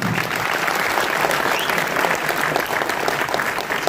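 Steady applause from a small audience at a community award ceremony in Mumbai, many hands clapping continuously and fairly close throughout, with no speech over it.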